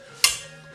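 A piece of garlic is crushed while preparing a Roman-style puntarelle salad dressing, giving one sharp, close crunching crack followed by a short fading rustle, with no talking.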